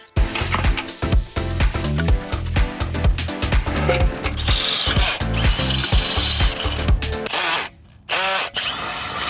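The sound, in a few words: ratchet tightening bolts through swing set pole sleeve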